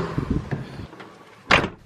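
A quiet rattle and click, then a sharp, loud latch-like clack near the end as a car door handle is opened, close by with no talking.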